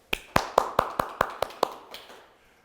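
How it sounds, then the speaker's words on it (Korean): Clapping to open a Korean Bible lecture on Paul's categories of salvation: about nine sharp, evenly spaced claps close by, crisp and ringing, fading slightly toward the end before stopping. "우리 다 같이 박수 한번 치고 시작하겠습니다"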